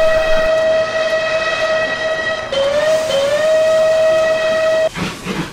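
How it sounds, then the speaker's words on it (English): A steam locomotive whistle blows one long, loud, steady note that bends briefly in pitch before cutting off into a hiss. "He blasted his whistle loud to try to warn Henry."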